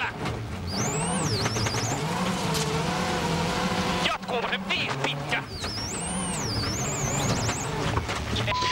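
Ford WRC rally cars race a stage at the 2009 Rally Poland, their engines rising and falling in a sustained rev with whining pitch sweeps, loud and continuous under a commentator talking throughout.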